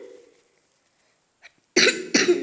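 Two sharp, close coughs in quick succession after a near-silent pause.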